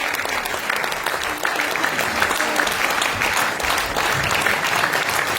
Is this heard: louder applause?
yes